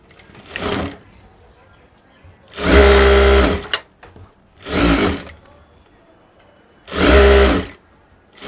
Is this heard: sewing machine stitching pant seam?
yes